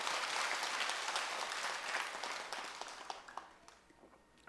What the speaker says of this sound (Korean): 잘했다고 박수 한번 치시죠.